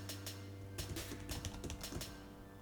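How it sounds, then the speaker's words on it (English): Quick, light taps of typing on an iPad keyboard, coming in irregular clusters at close range against a steady low hum. "back to the typing"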